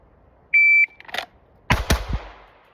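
A shot-timer beep is followed by several sharp pistol shots: one isolated crack, then a rapid close burst of two or three, loud and near with short echoing tails.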